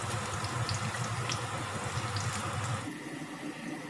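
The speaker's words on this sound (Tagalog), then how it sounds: "Una, gigisahin lang natin yung sibuyas." Onion sautéing in a pan, a close, busy sizzle and crackle of frying that softens somewhat near the end, with no talk over it.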